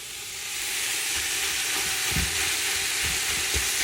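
Hamburger meat sizzles on top of vegetables in a pot, a constant close frying hiss with a few soft thumps and stirring knocks near the end.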